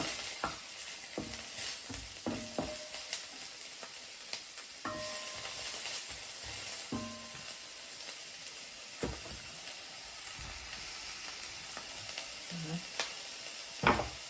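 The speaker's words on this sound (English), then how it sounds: "I'm going to saute them up first in the oil" Shrimp sautéing in oil in a Le Creuset Balti dish make a low, steady sizzle and hiss, with repeated spatula scrapes and taps knocking against the pan throughout.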